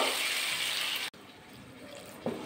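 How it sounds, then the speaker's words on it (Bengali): Water pours steadily into a pan of bottle gourd and egg curry, a continuous rushing splash that breaks off briefly, then resumes more softly, close by. "এবার জল দিয়ে দেবো।"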